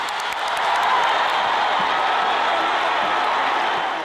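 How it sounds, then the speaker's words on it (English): Boxing arena crowd after the Erik Morales versus Marco Antonio Barrera fight, a broad continuous roar of applause and cheering that holds steady throughout, filling the space from a distance. "Both for the fighters deserve a hand of applause"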